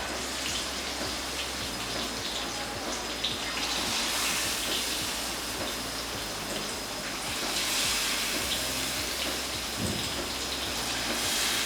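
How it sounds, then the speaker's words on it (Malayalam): Spoonfuls of mango unniyappam batter fry in hot oil in an appam pan, making a dense, continuous crackling sizzle heard close up that swells slightly at moments, with no talking. "എണ്ണ നന്നായിട്ട് ചൂടായിട്ടുണ്ടെങ്കിൽ നമുക്ക് ഇതിലേക്ക് മാവ് ഒഴിച്ചു കൊടുക്കാം."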